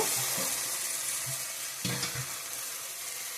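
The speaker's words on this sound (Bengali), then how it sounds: "ভালো করে কষানো হয়ে গেছে তেল ছেড়ে দিয়েছে ভেজে রাখা আলুগুলো দিয়ে দিব" Fried potatoes go into a spiced mushroom curry sizzling in a pan, with a continuous loud hiss of frying broken by a few scraping stirs.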